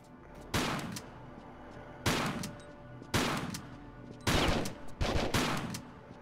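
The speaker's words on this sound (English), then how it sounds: "Get a few shots off on him." Gunfire in a Tomb Raider custom level, shots from an Uzi-armed player coming in five sharp, loud bursts spaced about a second apart, each with a short rattling tail.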